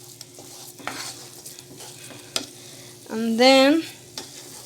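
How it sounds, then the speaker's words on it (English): Choux pastry dough for profiteroles mixed vigorously in a pot, giving a steady scraping, stirring texture beneath a brief spoken phrase, with a louder pitched squeal rising near the end. "you need to mix with a lot of energy"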